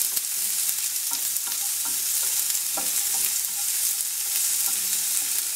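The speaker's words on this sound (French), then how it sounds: "Donc je chauffe ma poêle pendant un certain temps que ça soit bien chaud. J'y verse mes oignons." Onions frying in a hot pan, a bright continuous hiss of sizzling close by with scattered crackles and light stirring taps, no talking.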